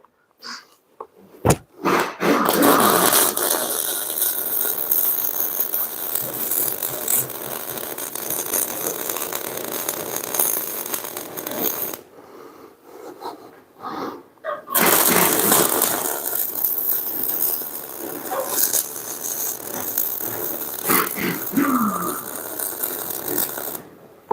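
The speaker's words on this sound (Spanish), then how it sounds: "Ahora voy a soldarla para que no se desenrosque" A security nut is welded onto a rear axle, with a loud continuous crackling buzz that runs for about ten seconds, breaks briefly, then resumes close by.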